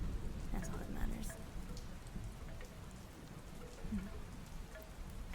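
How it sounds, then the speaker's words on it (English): Steady, soft rain patters on a surface with a faint low rumble of distant thunder, while a voice murmurs quietly beneath it. "You can hear rain, a little bit of thunder."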